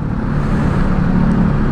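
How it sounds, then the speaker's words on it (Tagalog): Heavy road traffic in Makati, Metro Manila, a steady, loud, close rumble of car engines with no clear gaps between vehicles. "Natinding traffic talaga ang nararanasan natin"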